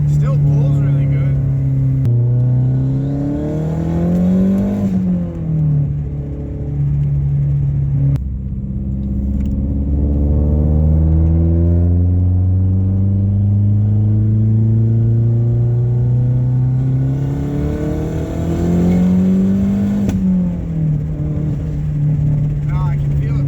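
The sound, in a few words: Mazdaspeed 3 engine accelerating during methanol test pull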